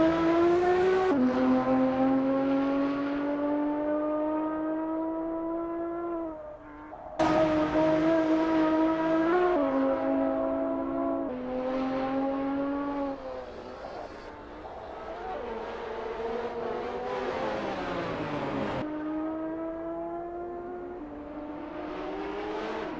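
Sim racing cars warming up at the Nurburgring GP circuit, with a close, steady high-revving engine whine rising and falling through gear shifts for over twenty seconds, other cars buzzing in the background.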